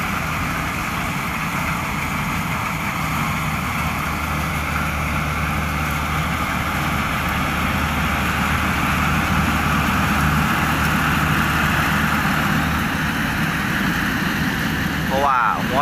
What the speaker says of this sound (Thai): กับเจ้า DC93 เคยนี่ก็พามาเกี่ยวข้าวโพดบนเขานะครับ